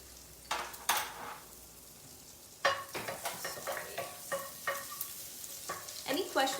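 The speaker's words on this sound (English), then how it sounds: "Okay, so we're going to put the rest of our garlic." Garlic sizzles in a hot pan while being stirred, soft steady frying under scattered scraping and clinking of the utensil against the pan.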